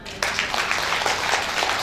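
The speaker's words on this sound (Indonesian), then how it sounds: "tepuk tangan" A church congregation bursts into applause after a short pause, a dense, fairly loud wash of clapping that carries on steadily to the end.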